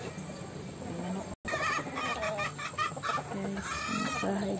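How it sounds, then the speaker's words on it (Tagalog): A chicken clucks repeatedly, close and fairly loud, in short bursts over outdoor background noise, with a brief dropout early on and faint talk around it. "May manok."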